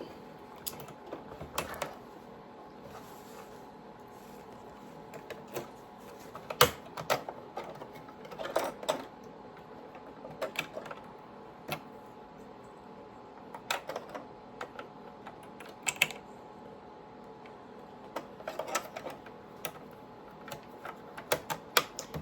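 A sewing machine double stitches fabric for a clutch purse, running in short bursts of rapid mechanical clatter with brief pauses between runs, close and steady throughout.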